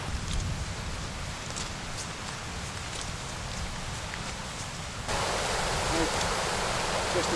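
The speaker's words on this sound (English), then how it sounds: "up to some more waterfalls." Continuous broadband rush of a waterfall at Aber Falls in Snowdonia National Park on a rainy day, steady and fairly close, growing louder and fuller partway through.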